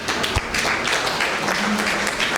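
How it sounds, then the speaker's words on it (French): An audience in a conference hall applauds a leader in one steady, dense wash of clapping, loud and continuous from start to finish. "Jack Ma, applaudissez pour lui."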